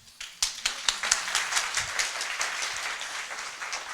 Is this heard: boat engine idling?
no